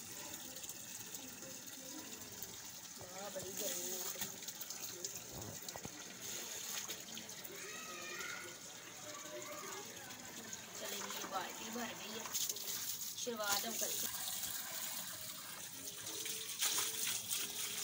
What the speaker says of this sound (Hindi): ये देखिए हम बाल्टी भरे ना